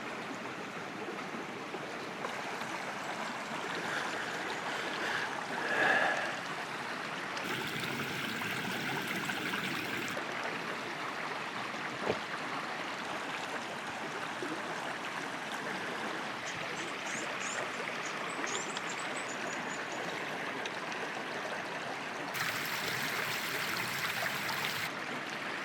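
A river flows steadily past a riverside campsite, a constant close rushing and trickling wash with no talking.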